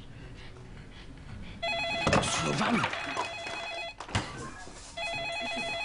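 A telephone rings in repeated electronic bursts, loud and close, going unanswered while people talk and shout over it and a brief crash sounds in between.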